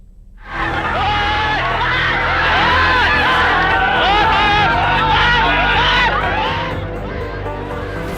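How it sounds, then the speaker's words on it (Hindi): A large crowd shouts and screams continuously while chasing a tiger that attacked a young man in Lakhimpur Kheri, with loud overlapping voices and engine noise throughout. "लोग शोर मचा रहे हैं"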